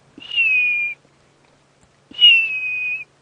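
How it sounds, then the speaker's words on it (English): A hornbill gives two long, clear whistled notes, each about a second, separated by a pause of silence; steady pitch, fairly close and distinct, on a windy safari drive. "he's whistling his merry tune"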